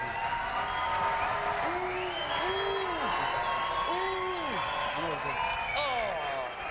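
A studio audience at a French TV show booing, a sustained crowd roar with swooping, wavering vocal tones, fairly loud, with people talking over it.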